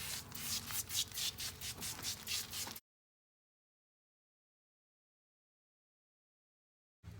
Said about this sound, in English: We are going to go ahead and clean up the wheel with this degreaser.